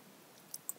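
A few soft computer mouse clicks land near the end of a quiet stretch while project details are set up in a software tutorial: three brief, faint taps in quick succession.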